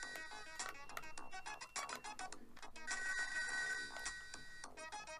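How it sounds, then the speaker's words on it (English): A telephone rings in the Toe Jam and Earl video game, a repeated electronic ringing pattern that runs steadily over game music throughout, fairly quiet, with no talking. "If you can hear that phone ringing,"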